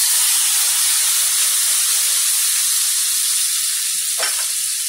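Tomatoes hit hot oil seasoned with cumin and asafoetida, giving a loud, steady sizzle and hiss throughout, with no talk.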